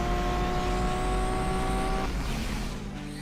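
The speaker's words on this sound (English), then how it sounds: "Really interesting, the Kachinger sound in the way that once you get to top speed, it just endlessly over rev" A Kachinger race car engine in Asphalt 8 over-revs at top speed with a loud, sustained whine against the limiter, then the pitch drops suddenly as the tone shifts lower.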